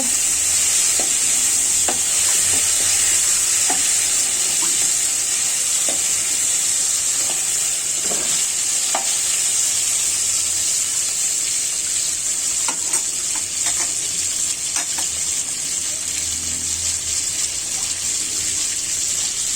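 Koi fish frying in oil in a pan, a dense continuous hiss of sizzling held close and loud throughout, with scattered clicks and scrapes as the pieces are turned and stirred.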